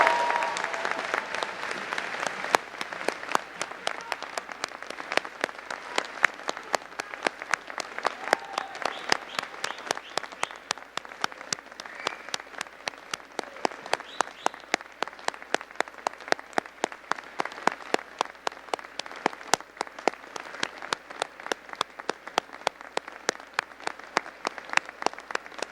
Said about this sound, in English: give a huge round of applause to all the people who supported you throughout